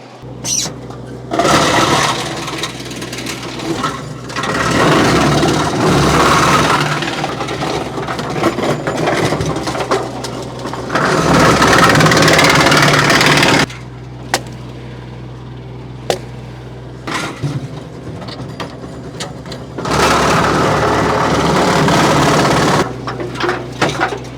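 A tractor PTO-driven wood chipper with a six-inch infeed grinds and rattles on branches in a long, loud, steady roar. The roar breaks off briefly several times, leaving the engine idling, then surges back.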